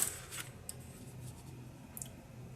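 Scissors cutting through material for a handmade tunnel book journal, a few quiet, close snips and crisp shearing clicks spaced out over a faint background hum, with no talking.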